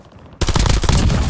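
In the Call of Duty Warzone video game, a loud burst of rapid automatic gunfire erupts after a brief quiet moment and continues as a dense, close fusillade to the end.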